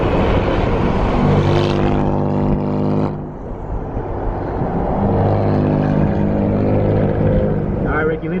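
A BMW M4 engine roars loudly and revs up and down, with strong low rumbling tones that shift pitch as the throttle changes.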